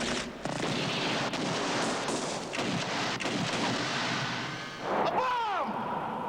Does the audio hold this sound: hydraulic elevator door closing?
no